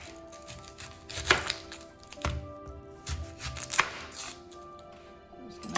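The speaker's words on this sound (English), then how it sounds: "chop up our onion and the vegetables" Onion and vegetables for a classic potato soup are chopped with a knife on a board, giving several separate, fairly close thuds at uneven intervals and a little rustling between them.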